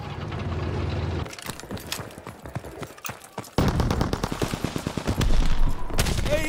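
Rapid bursts of automatic gunfire and rifle shots in the Call of Duty WWII winter siege multiplayer battle, dense and loud, one stream breaking off and a heavier barrage starting midway.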